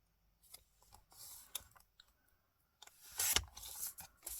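Scissors snipping through paper strips for a collage, quiet close rasping cuts and soft rustling in short bursts, a louder crisp cut near the end, no talking.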